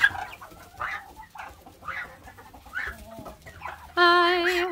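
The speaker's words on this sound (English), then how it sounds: "the little Japanese bantam." A Japanese bantam chicken on a farm clucks in short, soft bursts, then breaks into a louder, sustained crowing call near the end, with other fowl faintly around.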